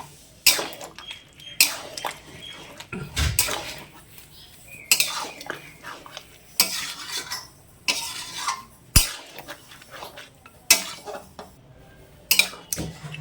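Chicken curry with potatoes stirred in a pot and the meat moved into a bowl, repeated metal spoon scrapes and clanks against cookware in irregular bursts, close and fairly loud, without clear talk.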